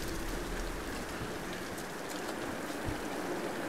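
Heavy rain falls in Tomb Raider Definitive Edition, a dense, steady hiss of drops pattering on surfaces that continues without a break, with no voices.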